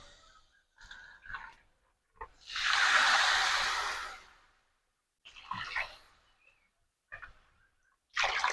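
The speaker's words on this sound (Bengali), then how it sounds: "এবার পরিমাণ মতো জল দিয়ে দেব" Water pours into rice fried in a pan for pulao, a steady gushing splash lasting about two seconds, followed by softer stirring and clinks in a quiet kitchen.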